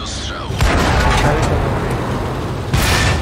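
A tank cannon fires in World of Tanks, the German VK 30.01 H in play; broadband booms strike near 0.6 s and again near 2.7 s over continuous game rumble and battle noise, loud and close.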